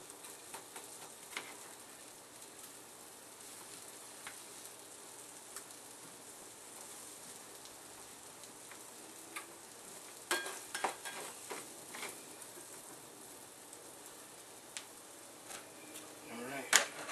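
Onions gently sautéing in a pan give off a faint, steady sizzle, broken by occasional soft ticks and light clinks of stirring, all at low volume.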